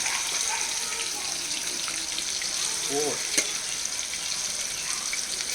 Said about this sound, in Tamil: எண்ணெய் கொதிக்குது. ஃபிஷ்ஷை எடுத்து போட போகிறேன்.